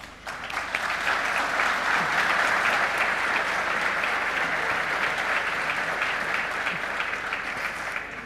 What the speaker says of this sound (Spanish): Muy merecido el aplauso para Flavia.